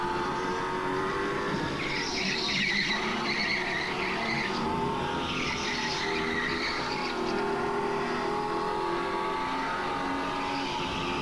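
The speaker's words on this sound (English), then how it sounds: "like what the engine noise did, or the fake engine noise" A race car engine in a racing video game whines steadily at high revs while tires squeal through corners, a constant synthetic-sounding roar with no talking.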